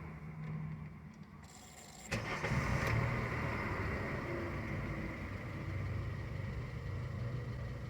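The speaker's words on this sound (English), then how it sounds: "I'm gonna turn on the vehicle and see what happens." Honda car with a 2.4 engine and a shutting-off fault: quiet background, then a sudden start at about two seconds settling into a steady, fairly faint idle hum.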